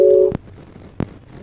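A telephone line tone plays as one steady, fairly loud beep lasting about a third of a second. Two short clicks follow, one right after it and one about a second later, with quiet line hiss between them and no talking.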